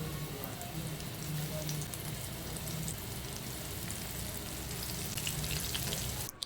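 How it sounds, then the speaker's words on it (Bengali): Pieces of chicken frying in hot oil in a wok over a medium flame, giving a steady dense sizzle and crackle throughout with no voices. "এরপর একটা একটা করে গরম তেলে এই চিকেনগুলো ভেজে নিব।"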